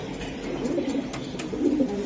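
A large Giribaz highflyer pigeon coos in low, throaty rolling notes close by, with soft rustling and loft noise around it.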